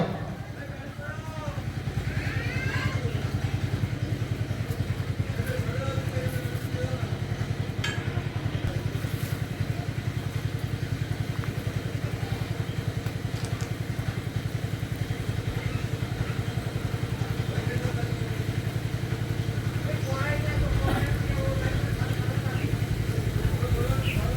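Motorcycles of a bike rally at a World Indigenous Day gathering rumble and idle in a steady low drone, with scattered speech and crowd noise over the engines throughout.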